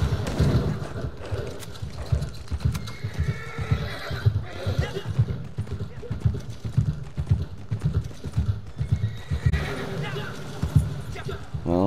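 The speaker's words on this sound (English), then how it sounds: "I don't think my horse likes it either. I always make her go in water." In the Red Dead Redemption 2 video game, a horse whinnies and its hooves clip-clop steadily, with keyboard clicks and a person talking over the game sounds.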